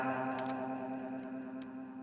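Processed synth tone through the Ripley space delay effect in Reason with its noise injection switched off, a steady sustained harmonic drone with faint high transient blips, moderately quiet and alone.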